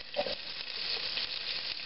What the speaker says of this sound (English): Sizzle, sizzle, pop, pop